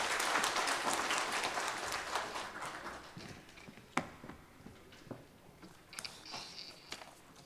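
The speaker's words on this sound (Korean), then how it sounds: "큰 박수로 맞이해 주시기 바랍니다" A church congregation gives a pastor a welcoming round of applause, fairly quiet and distant, fading from a full patter into a few scattered claps and knocks.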